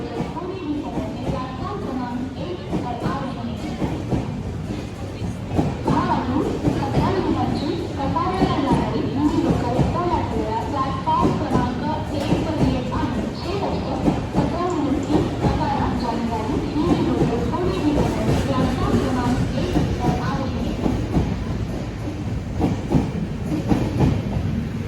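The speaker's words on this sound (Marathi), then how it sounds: "पहला ओवरटेक वंदे भारत ने किया।" A Vande Bharat train overtakes alongside a Diva–Sawantwadi Express, a steady loud rumble and rail clatter running throughout, with people talking over it.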